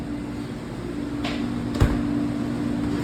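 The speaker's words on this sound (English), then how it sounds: "The fan definitely does work." The fan inside an Electrolux thawing cabinet runs with a steady low hum and airy whoosh, interrupted by a brief knock or bump, close and moderate.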